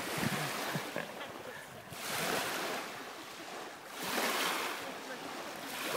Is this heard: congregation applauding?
no